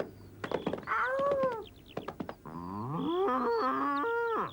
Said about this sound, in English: It's Boomer the bull. He's broken loose and he's in the lane